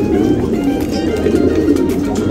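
A large flock of bred pigeons coos continuously in a loft, the low, overlapping cooing of many birds forming a dense, steady murmur close by.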